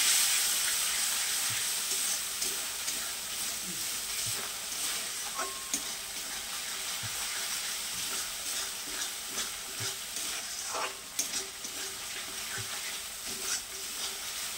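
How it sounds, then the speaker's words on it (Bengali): Masala spice paste frying in oil in a home kitchen pan, stirred steadily; a continuous soft sizzle runs throughout with scattered light scrapes and taps of the spoon against the pan. "এই পর্যায়ে আমি এখন কষে নেব মশলাটা।"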